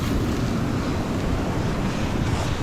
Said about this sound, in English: Keep a lookout for the waves.